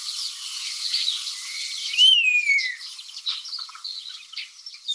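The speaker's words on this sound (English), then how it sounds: "Starlings have a lot of different calls. This is just one of them." A starling calls on open university grounds in Cambridge, a thin rising-then-falling whistle sliding down near the two-second mark, set amid a constant high hiss of other birdsong and insect-like chatter, with no voices.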